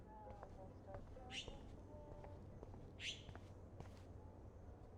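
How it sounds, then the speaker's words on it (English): A small bird trapped indoors in the video game Life is Strange chirps twice in bright, brief bursts, a few seconds apart, over a low steady ambient hum. "That poor little bird has been trapped in here."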